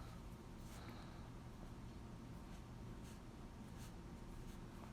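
Marker scratching across a whiteboard while neck arteries are labeled, steady faint strokes with short bursts over a constant room hiss, no talking.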